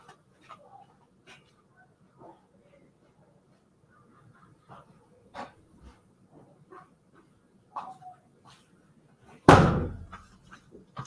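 A door slams shut with a single sharp, loud thud in a quiet courtroom setting, following faint scattered background knocks and movement.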